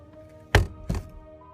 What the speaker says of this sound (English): banging his fist on the truck